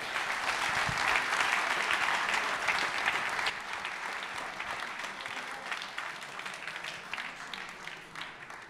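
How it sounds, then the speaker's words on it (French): Stadium crowd applauding the captain, defender number 8, at a French football title celebration in Troyes, a broad sustained roar of clapping that stays fairly even and gradually softens, heard from within the stands. "je vous demande d'applaudir défenseur numéro 8"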